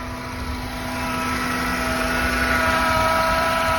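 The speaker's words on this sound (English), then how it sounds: "the car is actually on right now" A 2003 Honda Accord EX with the 2.4L engine runs at steady idle, a continuous low hum with a constant tonal drone, fairly loud and unbroken, with no talking over it.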